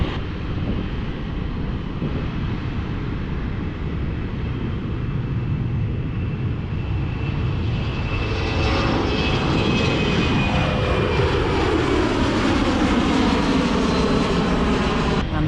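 A blue KLM jet takes off from the runway at London City airport, its engines building from a steady roar to a loud, close, rising jet thunder with a sweeping pitch change as it climbs away.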